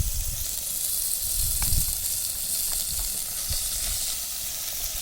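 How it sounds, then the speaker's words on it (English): Steady, close crackling sizzle of minced meat browning in a hot pan at a campsite, with a few soft clicks and scrapes. "I'm going to put my mince in, I'm going to slowly add it, hear it sizzling"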